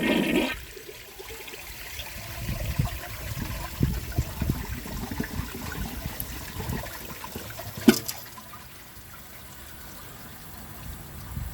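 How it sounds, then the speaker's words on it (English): A 2015 Kohler Cimarron one-piece toilet flushes with the handle held down until the tank empties, a brief rush followed by gurgling, trickling water that fades without a strong siphon, with a sharp clunk partway through. "let's see how it flushes when I hold the handle down until the tank is empty"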